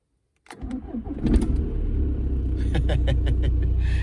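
A Volkswagen engine cranks and catches after the ignition was rewired, settling into a loud, steady, close idle rumble, with a few sharp clicks over it.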